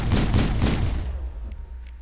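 Heavy gunfire in the video game Mass Effect, with three or four booming shots in rapid succession followed by a quick fade and two faint clicks.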